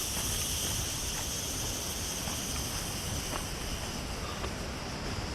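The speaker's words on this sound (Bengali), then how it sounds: "ঝর্ণার আওয়াজ শোনা যাচ্ছে" A distant waterfall somewhere along a forest trekking trail in Meghalaya, India, heard as a steady, soft broadband roar that stays even with no clear breaks.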